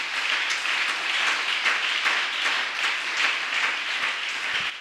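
A church congregation claps and applauds steadily and loudly throughout, a dense even wash of hands with no talking over it.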